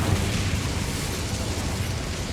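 The Incendio fire spell from Hogwarts Legacy erupts as a loud, continuous whooshing roar of flame, dense and unbroken for a couple of seconds.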